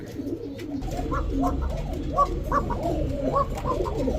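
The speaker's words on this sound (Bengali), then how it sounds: "আমরা ডাক দেখানোর জন্য কিন্তু ওদের খাঁচায় নিয়ে আসছি অনেকে ভাবতে পারেন ডাকে না এই যে ডাক" Arabian Koka pigeons coo inside a cage, with repeated soft, throaty calls overlapping in a steady rhythm at close range and no talking.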